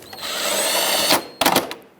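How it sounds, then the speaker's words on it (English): Power tool driving a T30 Torx bolt into the engine of a 2010-2017 Chevrolet Equinox, a steady whirring drill run of about a second followed by a short burst of rapid clicks, close and fairly loud. "let's put the T30 Torx bolt back in"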